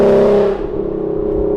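Exhaust of an S550 Ford Mustang running a ghost cam tune, revving in one loud rising rip that settles into a choppy, lumpy idle with a rhythmic lope, close and alone with no talk.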